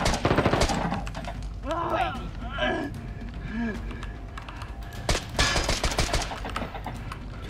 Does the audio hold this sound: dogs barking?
no